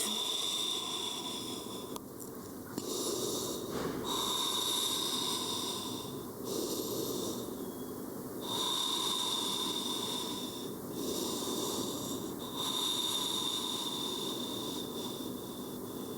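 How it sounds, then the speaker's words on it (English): Slow, deep yoga breathing close to the microphone, long drawn hissing inhales and exhales repeating in a steady unhurried rhythm over about sixteen seconds, with no talk. "Slowing down the breath."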